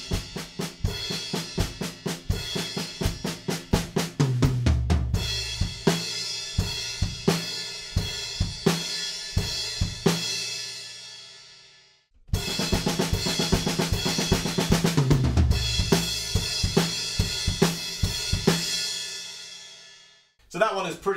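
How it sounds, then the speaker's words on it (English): Drum kit crash cymbals struck in repeated triplet groups of six for a drum part, bright washy crashes with steady rhythmic hits, a brief gap near the middle, loud and close with no talking. "We're just playing crashes, groups of 6 in triplets"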